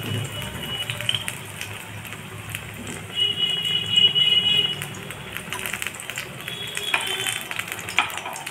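Eggplant chops coated in gram flour batter fry in hot oil in a kadai, giving a steady sizzle and bubbling that swells in the middle and again near the end, with faint voices in the background.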